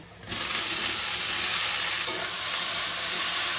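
Steamed broccoli hits hot oil with fried onion and erupts into a loud, sudden sizzle that holds steady and close for several seconds, with no talking.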